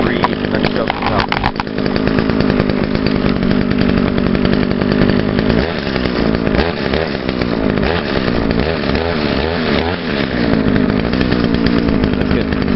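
Echo SRM-2100 string trimmer's small two-stroke engine running after a cold start, a loud, close, steady buzzing whine that holds throughout with slight revving, while a voice talks faintly under it.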